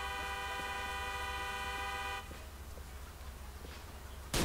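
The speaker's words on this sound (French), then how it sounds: "Il est resté bloqué sur le klaxon" A stuck car horn blares continuously in Grand Theft Auto IV, a steady nasal tone with layered harmonics that cuts off abruptly midway, leaving quieter game ambience and a short burst at the end.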